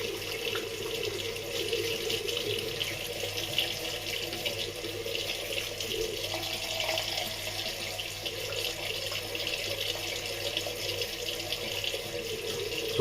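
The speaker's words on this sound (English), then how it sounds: "Now I'm rinsing it off completely because it's also a lava booster." A tap runs steadily into a sink while charcoal face cleanser is rinsed off the skin. The water makes a constant close hiss and splash throughout, with no talking.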